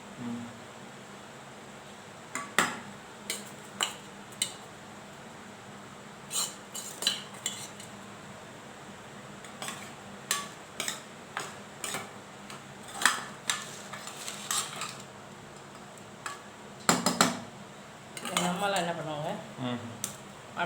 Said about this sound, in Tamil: இப்போ லெமனில் போட்டு நம்ம மிக்ஸ் பண்ணிக்கலாம்